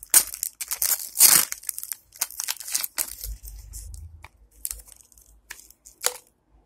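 Someone tears open and crinkles a plastic sachet holding a toy bug, with sharp bursts of crumpling and rustling in uneven handling bursts, close by.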